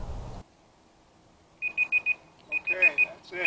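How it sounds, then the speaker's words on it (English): On a lakeside bass fishing outing, a timer chirps its alarm in two short bursts of rapid, high, electronic beeps after a quiet pause, close by and fairly clear. "timer just went off on the Procure"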